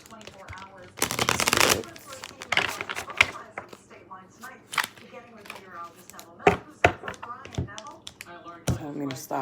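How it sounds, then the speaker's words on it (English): Tarot cards are shuffled by hand in quick riffling bursts and dry taps, loudest in one burst early on, with a close voice speaking between the shuffles. "One more shuffle and then a cut."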